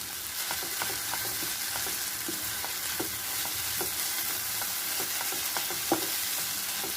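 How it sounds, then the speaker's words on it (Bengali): Neem leaves and eggplant fry in a pan, a constant close sizzle punctuated by regular light taps and scrapes of a spatula as the mixture is stirred, with no voices. "আমার খুব ভালো লাগে নিম পাতা ভাজা"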